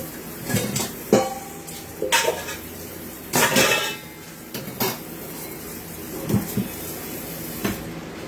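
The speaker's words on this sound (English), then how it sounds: "I'm going to try to do a little bit of the dishes, rinse them out just a little bit" Dishes and cutlery clatter and knock in a kitchen sink during rinsing, with scattered bursts of clinking and sliding crockery separated by short quieter gaps.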